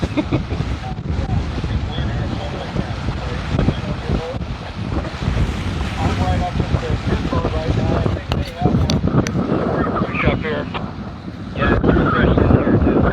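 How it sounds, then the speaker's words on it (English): Strong wind buffets and roars across an open lake during a sailing race, with lapping waves and faint voices mixed into the steady gusty rush. "it's pretty fresh, so that means it's windy"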